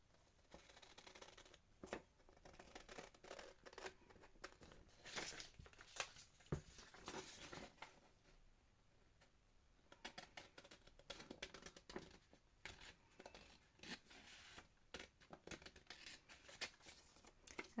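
Scissors snip and trim around a paper cover in a series of quiet, irregular cuts and rustles, close by and faint, with small pauses between strokes.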